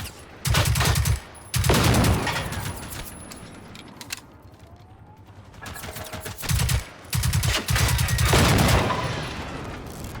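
Submachine gun bursts in Generation Zero, several loud rapid automatic volleys close by, separated by short pauses and lighter mechanical clicks, with no talk.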